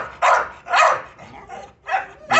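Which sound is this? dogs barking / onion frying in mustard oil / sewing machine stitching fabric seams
dogs barking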